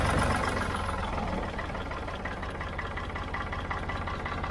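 A Ford 3000 tractor engine runs close by with a steady, heavy rumble. It sounds slightly louder in the first second before settling into an even idle-like drone.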